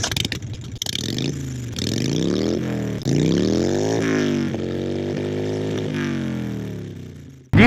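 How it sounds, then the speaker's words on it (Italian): Harley-Davidson Sportster 883 Iron motorcycle pulling away on a morning commute to work, its engine revving up through several gears in rising sweeps, loud and close, with a brief clatter at the start and no talking. "Pronto a partire, ci vediamo in moto."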